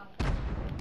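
A single sudden TNT blast in a video game, a sharp close boom with a rumbling tail that fades over under a second.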